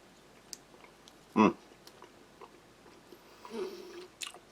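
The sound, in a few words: chewing a stick of strawberry gum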